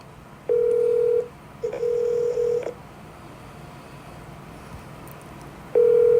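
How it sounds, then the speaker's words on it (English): A busy signal repeats over a phone line after a call is hung up: steady sustained tone bursts, one short, one longer, then another starting near the end, separated by quiet gaps with a low background hum. "They're picking up the phone and hanging up."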